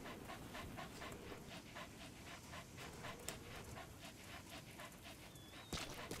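A dog in the video game Metal Gear Solid V: The Phantom Pain pants in quick, rhythmic breaths, close and steady throughout, with a brief sharp click near the end and no talking.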